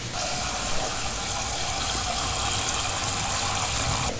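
Tap water runs steadily into a pot of potatoes, filling it for boiling; a continuous, close rushing pour with no talking.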